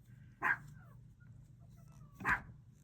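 Dogs barking indoors at a moderate distance, two separate sharp barks about two seconds apart over a quiet background hum.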